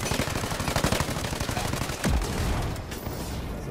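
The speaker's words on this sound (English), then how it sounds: "I'm using my machine gun, and you can see it takes down their armor a little bit faster" Rapid bursts of machine gun fire from the video game Ghost Recon Breakpoint, loud and continuous rattling with a heavier impact partway through.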